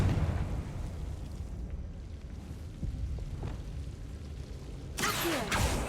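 A Confringo spell blast in Hogwarts Legacy, rumbling game ambience followed near the end by a sudden bright burst and crackling impact.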